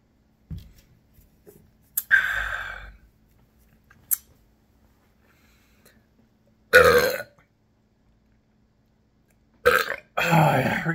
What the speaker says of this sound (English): we're getting some good burps today